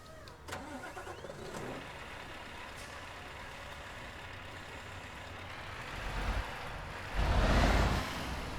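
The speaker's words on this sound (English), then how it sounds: "Now the sound pack sounds like it comes from the next generation Scania" A Scania R700 truck engine in a truck video game sound pack idles with a low, steady rumble, then swells into louder revving bursts toward the end, with no talk.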